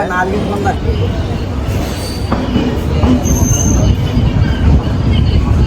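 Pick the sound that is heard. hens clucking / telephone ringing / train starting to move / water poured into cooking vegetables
train starting to move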